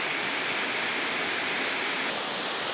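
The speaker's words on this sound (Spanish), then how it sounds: "Mire dónde viene el agua, mire." Steady, loud rush of a waterfall or mountain stream near Bello, Antioquia, Colombia, a broad continuous roar filling the whole stretch with no voices over it.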